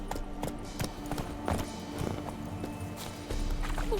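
Clip-clop of Roach's hooves as Geralt rides in The Witcher 3: Wild Hunt, a steady trotting rhythm under game ambience with a low rumble, no talk over it.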